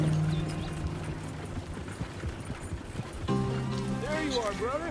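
Horse hooves clip-clopping in the Red Dead Redemption 2 video game, a steady rhythmic trot close by with game music and ambience behind it and a voice speaking over the hoofbeats.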